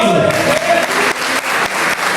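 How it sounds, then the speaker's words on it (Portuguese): Church congregation at a Sunday service applauding in worship, dense steady clapping with a voice briefly heard at the start. "Aplauda o Senhor que é digno."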